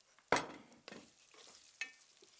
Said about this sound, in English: Then I'm going to give it a stir.